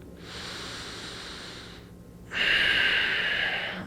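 Slow, deliberate breaths drawn in and pushed out through the nose during a morning stretching routine, a long soft inhale followed by a brief pause and then a louder, airier exhale, close and with no talking.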